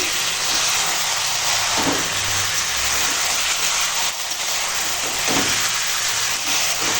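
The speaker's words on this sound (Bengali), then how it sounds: "এখন মাংসখানা কষাবো সমস্ত মশলাপাতি দিয়ে দিয়েছি" Mutton pieces being sautéed with chilli powder, Kashmiri chilli and other spices, a loud dense hissing sizzle right up close, constant throughout with occasional stirring knocks and no voices.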